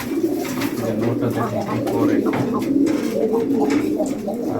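Pigeons coo steadily and close by while being fed, their low rolling calls overlapping throughout with some soft background rustling.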